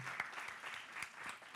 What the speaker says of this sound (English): Let's all clap for ourselves